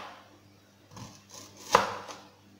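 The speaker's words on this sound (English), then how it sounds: "I like slicing mine round" A knife slices red onions into rounds on a board, giving a few soft, close cuts that end in one sharper chop, with no voice.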